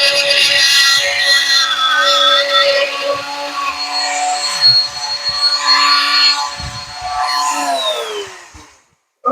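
A power tool cuts through a sheetrock ceiling at the corners during basement finishing, a steady high-pitched whining buzz that runs loud and close for about eight seconds before winding down and stopping.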